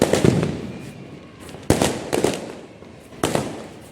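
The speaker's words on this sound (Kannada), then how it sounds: "ಇಲ್ಲಿ ಪಟಾಕಿ" Firecrackers burst on New Year's night, heard from a rooftop terrace: three sharp, loud cracks spaced a second or two apart, each trailing off into crackling and echo over a steady background rumble.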